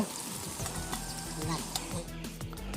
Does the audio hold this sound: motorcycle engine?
no